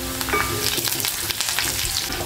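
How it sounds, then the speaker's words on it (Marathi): Curry leaves, crushed ginger, garlic and green chilli sizzling in hot oil for banana flower bhaji, a dense, loud, crackling hiss with sharp spits and pops, close up and without voices. "आलं लसूण, हिरवी मिरची जे खलबत्त्यामध्ये कुटून घेतलेलं ते छान तेलामध्ये परतून घ्यायचं आहे"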